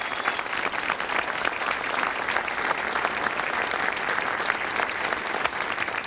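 An audience gives the mayor a dense, continuous round of applause at an evening event, many hands clapping evenly throughout with no talk over it.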